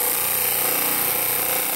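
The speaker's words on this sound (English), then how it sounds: "We're gonna run this up and start sanding" A powered spinning wheel sands a part for a model build, a loud steady whirring drone with no pauses.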